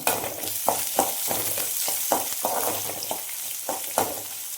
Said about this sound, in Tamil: இந்த வெங்காயமானது வந்து பார்த்திங்கன்னா லைட்டாக கண்ணாடி பதம் வணங்கினா போதும்